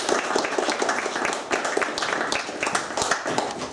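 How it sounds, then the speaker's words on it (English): Audience at a youth sports awards ceremony clapping for an absent award recipient, an uneven burst of fairly close handclaps with scattered sharp individual claps, steady throughout. "let's give him a round of applause"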